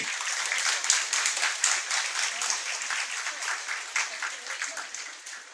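A room of people at a school felicitation ceremony for Class X achievers gives a steady round of applause, dense clapping held at moderate level throughout with no voices over it.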